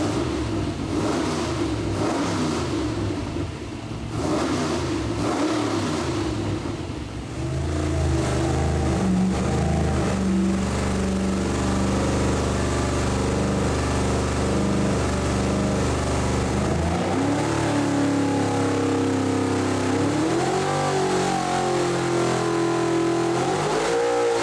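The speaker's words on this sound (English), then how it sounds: "we're going to be ready to make some power pulls" A Pontiac 455 V8 built for pump gas roars on an engine dyno during a power pull, a loud sustained engine note that swells and climbs steadily in pitch over about twenty seconds with no talking.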